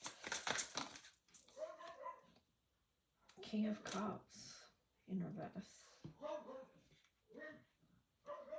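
A dog barks outdoors in short bursts with yips, heard under and between a person's speech.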